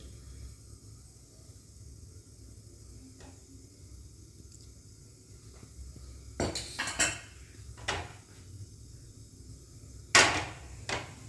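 A pan clanks down onto a stove in a home kitchen during preparation of a new-potato curry, giving a few sharp metallic knocks and scrapes, with the loudest bang near the end, over a quiet background.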